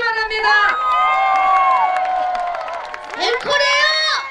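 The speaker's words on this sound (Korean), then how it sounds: "자, 그러면 박수와 함성 주시기 바랍니다." An audience at an outdoor flower festival in Jangseong cheers loudly, with high shouting voices, many of them children's, rising and falling in a dense, steady roar that dips briefly and then surges again.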